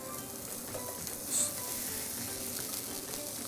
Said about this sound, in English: So the way that I like to cook my burger, it's always with olive oil, just a little bit